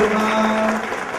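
Applause from a seminar audience at a motivation seminar in Surabaya, a brief burst of clapping with a steady tone running beneath it, fading slightly toward the end.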